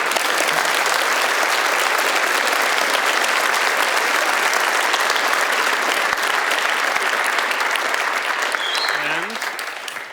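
A large audience bursts into loud, dense, sustained applause after a live stage performance and conversation, a close wall of clapping that carries on steadily and then fades slightly near the end.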